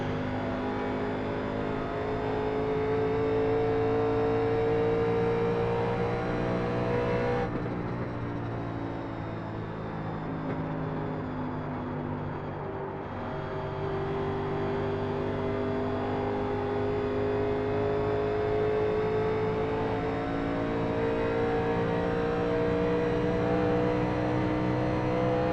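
A 1987 NASCAR stock car engine in iRacing at Kentucky drones loudly and continuously at high revs, its pitch dipping briefly as the throttle lifts into the banking and then climbing again, with no speech.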